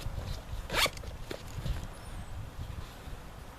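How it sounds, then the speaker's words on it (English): A short, sharp pull on the top zipper of a Camelbak Squadbak backpack close by, followed by quiet handling and rustling noises. "Top zipper portion here."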